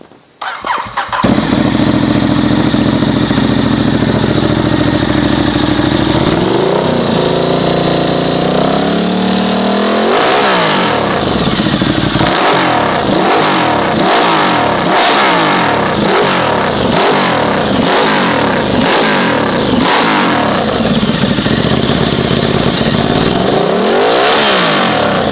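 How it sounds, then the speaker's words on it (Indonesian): A Ducati Diavel fitted with a Werkes USA MotoGP-style exhaust starts and idles with a deep lumpy throb, then is blipped again and again, a rapid string of loud sharp revs rising and falling close by. "Knalpot Works USA. MotoGP terpasang di Ducati Diavo."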